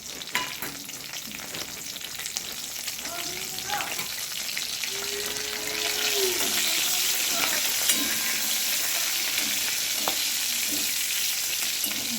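Green chillies and nigella seeds fry in hot oil for a vegetarian pointed gourd dish, a continuous sizzle that grows louder midway, with occasional scraping and stirring clatter and no talking.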